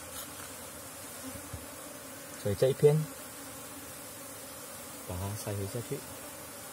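A colony of honey bees that has lost its queen hums softly in the background at a farm hive, while a person talks quietly in two short bursts over the steady buzz.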